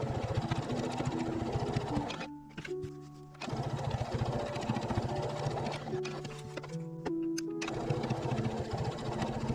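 A domestic sewing machine stitches a bag seam 0.5 cm from the edge in rapid, steady bursts, broken by two short pauses. Fairly loud and close, with no talk.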